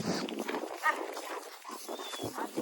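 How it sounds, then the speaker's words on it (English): Farm dogs barking near a calf pen, short scattered yaps and snuffling mixed with movement noise, moderately close and uneven. "Sorry about the dogs."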